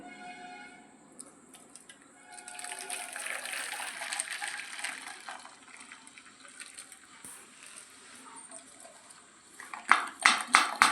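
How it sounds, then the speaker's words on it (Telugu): Boiled horse gram soup (ulavacharu) being strained in a kitchen, with a steady wash of pouring liquid and trickling, then a few sharp clinks of a metal vessel or utensil near the end. "ఈ చారుని ఇప్పుడు వడపోసుకోవాలి"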